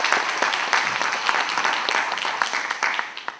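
A hall of student delegates breaks into loud, dense applause at a student council assembly after a vote passes unanimously. The clapping is close and continuous for a few seconds, then begins to thin toward the end.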